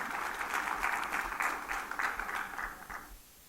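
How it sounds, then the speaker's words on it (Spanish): Congregation clapping during a church service, a steady dense patter of many hands lasting about three seconds before fading out, moderately loud and without speech. "Dele palmas al Señor, dele gracias porque Él es bueno."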